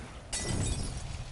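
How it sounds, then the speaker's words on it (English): Glass shatters with a sudden loud crash in a zombie video game, the bright breaking burst followed by a scattering, tinkling decay over a low rumble. "I love when the glass shatters"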